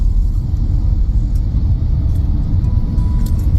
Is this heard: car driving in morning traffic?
yes